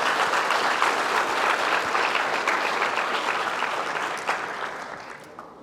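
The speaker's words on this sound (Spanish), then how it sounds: "Denle un aplauso al Rey." Church congregation applauding steadily during a Spanish-language worship service, a dense wash of clapping that holds strong before tapering off near the end.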